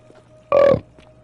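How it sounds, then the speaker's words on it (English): A loud, close burp lasting about a third of a second, let out by a gamer after drinking lots of water during play, standing alone against a low background hum. "Yeah, I just burped. I was like drinking a bunch of water."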